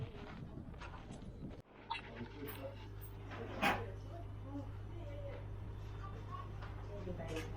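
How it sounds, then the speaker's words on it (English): Guard dogs bark and whimper now and then against a steady low hum and background chatter, with one sharper yelp standing out midway. "That's providing I can get past these guard dogs here"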